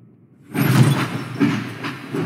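A train beginning to move in a Project Playtime video game trailer, a low mechanical rumble that starts abruptly after a short silence, with rhythmic clanks and creaks, loud and close.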